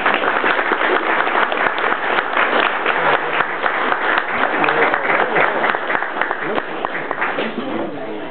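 Audience applause for Newfoundland's Governor John Guy at a keel-laying ceremony at the Wooden Boat Museum in Winterton: steady, dense clapping from a crowd, sustained and fairly loud throughout, tapering slightly near the end.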